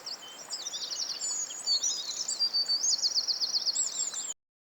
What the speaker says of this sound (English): I love to listen to the birds singing.